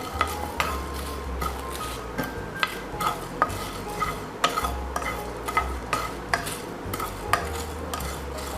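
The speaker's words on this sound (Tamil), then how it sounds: "இப்போ நம்ம நல்லா ஃப்ரை பண்ணிக்கலாம்." Cloves, cardamom, star anise and Kashmiri chillies fry in hot oil for Chettinad chicken, a soft sizzle under repeated metal-spoon stirring clinks and scrapes at a fairly regular pace, close up and without speech.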